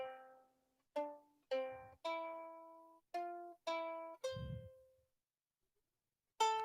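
Plucked ukulele notes play a short melodic phrase, each note ringing and decaying, with a brief pause before a final note.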